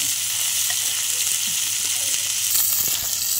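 Village-grown okra frying in a pan while being stirred, a steady soft sizzling hiss with faint occasional scrapes, close and continuous.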